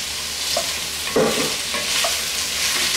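Ingredients for pancit canton cooking in a pan, a soft continuous sizzle with a few short scrapes of a utensil stirring, close and fairly quiet.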